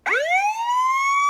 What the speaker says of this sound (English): Police Siren 1. The Americanized version.